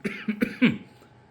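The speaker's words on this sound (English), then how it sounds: "I got a cough" A person coughs several times in a quick, close burst, the harsh bursts fading into quiet.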